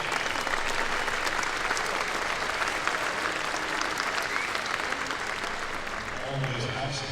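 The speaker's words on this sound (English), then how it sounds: "Let's have a nice round of applause to Dwayne." Sustained audience applause for a professional archer at the Vegas Shoot championship shoot-offs, a steady dense wash of clapping filling the hall from start to finish, with faint voices mixed in.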